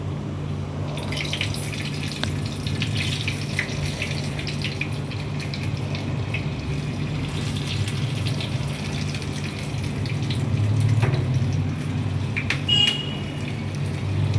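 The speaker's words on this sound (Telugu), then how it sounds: "బజ్జీలు మంచిగా వేగుతున్నాయి" Fat green chillies coated in thick batter for bajji, deep-frying in hot oil, a steady low bubbling hiss with faint crackles and a brief louder swell near the end, heard alone without speech.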